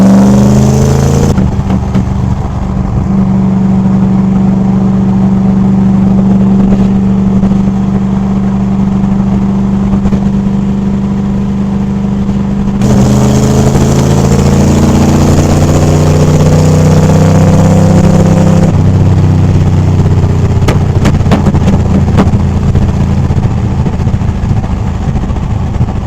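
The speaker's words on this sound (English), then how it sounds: "Too shabby for a third gear pull there. We were doing probably about 50 when I punched it." A 1970 Ford Falcon accelerates hard through the gears from about 50 mph, its engine note climbing in sustained pulls with gear changes breaking the rise, loud and close inside the car with no talking.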